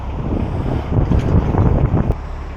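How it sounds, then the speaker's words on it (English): Blustery wind buffets a narrowboat at a canal wharf, rising and falling in broad gusts with low rumble, steady and close with no voices. "the wind should be bringing it back"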